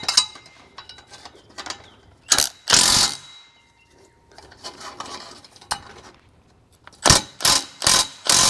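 A ratchet tightens bolts on an AWE catback exhaust under a 2024 Ford F150 5.0, giving short bursts of rapid metallic clicking separated by pauses, with a quick series of louder clicking strokes near the end.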